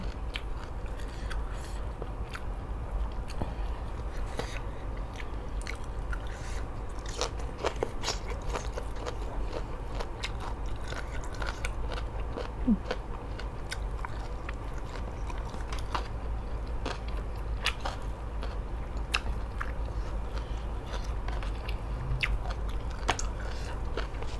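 Someone chews bitter mushroom chili paste eaten with purple sticky rice, giving soft, close, continuous chewing with small crunches and crackles at a low level over a long stretch, without talking.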